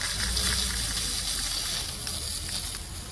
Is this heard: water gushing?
yes